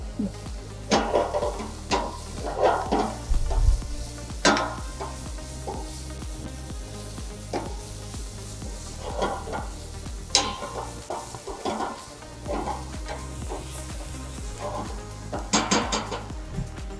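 Vegetables with chopped celery being stirred in a pan until evenly mixed, with a soft sizzle under irregular scrapes and clinks of a utensil against the pan, close up, with occasional faint background sound.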